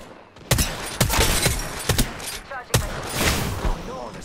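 Video game gunfire in a close firefight, with sharp bursts and single loud shots repeating at irregular intervals, some cracking sharply, amid faint game background noise.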